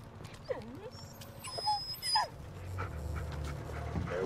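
A dog pants and whimpers nearby in the Blair Witch video game, soft breaths and shuffling movement over a low ambient hum, with faint speech in the background.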